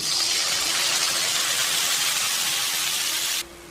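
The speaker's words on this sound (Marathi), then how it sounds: "चला आता याच्यात डाळ ओतू." A loud, steady hiss and sizzle as dal pours into a hot pan of sautéed tomatoes and coriander, cutting off abruptly near the end.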